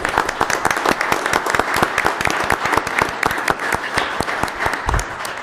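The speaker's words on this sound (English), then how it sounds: "Round of applause." Applause at a township supervisor meeting for Captain Mook's promotion, a modest room of people clapping steadily with crisp individual claps standing out, plus a low thump near the end.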